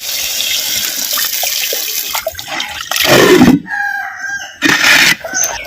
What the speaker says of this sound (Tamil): பச்சை தண்ணி சேர்த்துக்கிறேன்.